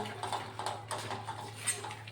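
A spoon stirs poppy seeds in ghee, scraping and clinking softly against the pan in quick, light strokes, close by, over a faint steady hum.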